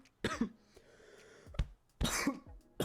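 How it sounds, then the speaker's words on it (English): A person coughs twice, close and fairly quiet, with a short throat-clearing rasp between the bursts and no talking. "I have no clue what that cough's about."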